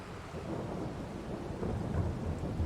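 Steady rain with a low rumbling wash underneath, continuous and moderately quiet, no voices.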